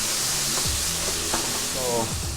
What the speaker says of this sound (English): So the bacon goes straight in, very hot pan.